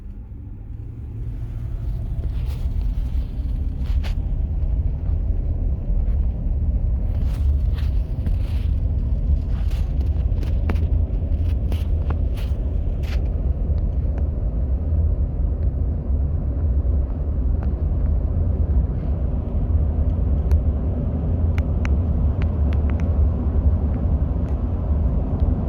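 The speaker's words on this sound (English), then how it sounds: "Okay, so now time for the final test drive." Car driven on a test run after a transmission tune, a steady low road and engine rumble that builds in the first seconds and then holds evenly, with scattered light rattles and ticks, recorded from inside the cabin.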